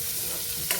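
Steamed green peas are sautéed in a pan, producing a continuous close sizzle with a brief stirring scrape near the end of the short moment.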